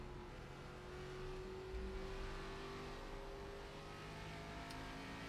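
An ARCA stock car in the iRacing sim laps Richmond, its engine droning steadily at high revs with smooth pitch shifts through the corners, loud and continuous with no talk over it.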